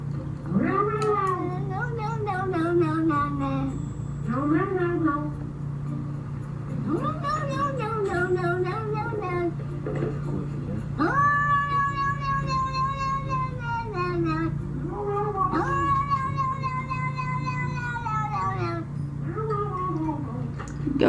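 A cat reluctant to be bathed lets out a series of about six loud, long, wavering yowls and meows over a steady low hum, with no one talking.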